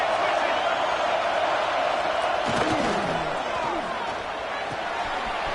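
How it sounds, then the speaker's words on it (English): A roaring stadium crowd in a college football video game swells into a dense, steady wall of cheering as the defense is pressed near its own goal line, with a commentator speaking over it. "Listen to this crowd just shaking the girders of this place, trying to help their defense."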